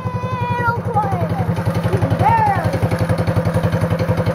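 A go-kart engine fitted with a performance muffler idles close by with an even, rapid low putter, while a voice talks over the first half.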